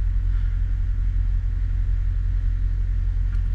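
An Audi S7 with a 4.0T engine rolls up onto ramps for an oil change, giving a steady, loud low rumble that holds evenly throughout with no voices.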